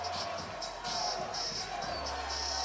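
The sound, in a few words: crowd cheering at Nathan's hot dog eating contest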